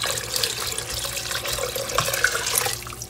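Water pours steadily from a tap into an Instant Pot for bean, ham and spinach soup, a continuous close splashing rush with no speech.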